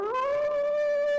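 A person imitates a wolf with one sustained rising howl, a clear close tone that climbs and then holds steady, with no other sounds around it.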